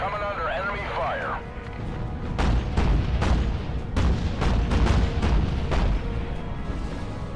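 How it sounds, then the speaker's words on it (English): Naval combat in the video game Battlestations: Pacific, with rolling booms and rapid bursts of enemy gunfire and explosions over a steady engine-like rumble, while a voice talks over the start. "We're coming under enemy fire."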